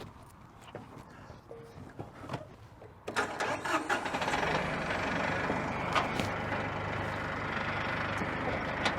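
A Massey Ferguson 1835E Shuttle Shift tractor's engine catches around three seconds in and settles into a steady, loud, close idling rumble after some light clatter, with no talk over it.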